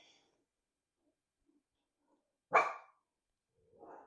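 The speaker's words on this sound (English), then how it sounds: "My dogs are barking." A single sharp dog bark up close in an otherwise quiet room, followed a moment later by a fainter, softer bark or huff.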